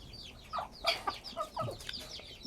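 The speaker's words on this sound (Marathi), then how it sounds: "आणि ही आहे कडकनाथ कोंबडी" Several Kadaknath chickens cluck softly and irregularly, with short overlapping clucks and chirps against a quiet background.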